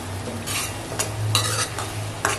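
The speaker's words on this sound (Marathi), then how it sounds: "त्या वाटणाला तेल सुटेपर्यंत आहे ना छान असं. लो गॅसवर." Coconut masala paste cooks in oil over low gas, a low, even sizzle with several short bursts of scraping as a spoon pushes the thick paste around the pan, close by and without voices.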